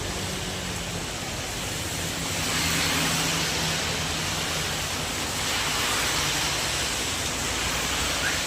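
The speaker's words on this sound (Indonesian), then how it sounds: "Hujan agung tuh." Heavy rain pours steadily at a street vendor's roadside stall, a dense, unbroken hiss that swells slightly midway and continues without any voices.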